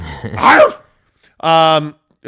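Dogs barking indoors, two loud separate barks about a second apart, the second a clear, tonal yelp, with no voices over them.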